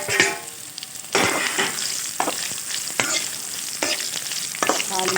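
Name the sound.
bitter gourd added to hot oil, frying and sizzling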